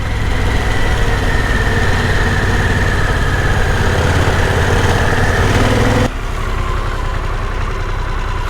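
Scooter engines idling and droning close by on a street in Thailand, a steady buzzing hum that continues unbroken and then drops in level near the end, with no talking.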